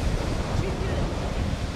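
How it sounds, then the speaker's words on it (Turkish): Open sea waves wash and churn in a continuous rough surge, with wind buffeting the microphone, loud and close. "İşte gerçek deniz bu."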